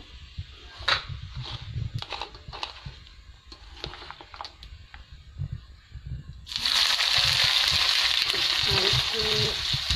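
Oil heating in a pan for prawn bhuna, with sputtering clicks, light clatter and soft handling noises, then a loud, sustained broad sizzle as ingredients hit the hot oil and keep frying.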